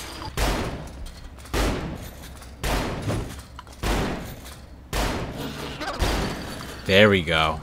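Repeated gunfire bursts from the video game Saints Row the Third, about six sharp volleys at roughly one-second intervals, loud and close, with a player talking briefly near the end.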